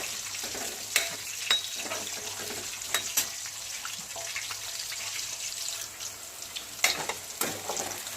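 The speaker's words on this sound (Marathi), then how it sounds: "त्याला थोडा फ्राय करून घ्यायचं बरं का बटाट्याला।" Potatoes fry for aloo matar pulao in a soft, steady sizzle, broken by sharp scraping spikes from stirring at close range, with no voices.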